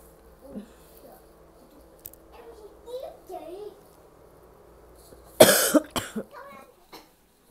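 A person with a cold coughs in a cold outdoor setting, a burst of harsh close coughs late in the clip after quiet talk, ending in a short final cough.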